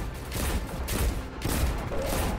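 Hand cannon fire in the Destiny 2 Xbox One open beta, heavy booming shots layered over sustained in-game gunfire and explosions, loud and dense with no pause.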